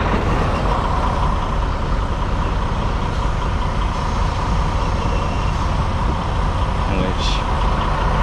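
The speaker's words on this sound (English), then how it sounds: "we're gonna turn it on very briefly just to turn the wheel and immediately turn the truck back off" A 2020 Freightliner Cascadia truck engine runs for a short stretch, giving a steady, loud, close diesel rumble with no breaks.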